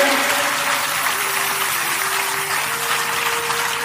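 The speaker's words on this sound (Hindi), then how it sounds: "बजाओ ताली" Audience clapping along as a steady, dense wash of applause at a satsang gathering, with a sustained singing tone running underneath.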